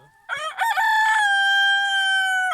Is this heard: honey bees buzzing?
no